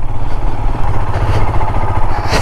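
Motorcycle ridden on the road, a loud steady engine drone with rumbling low tones and wind noise, the rider close by and no one speaking.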